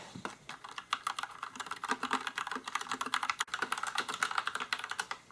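Rapid, steady typing on an Akko Matcha Red Bean mechanical keyboard with silent pink switches, soft dense clicks and thumps with no voices.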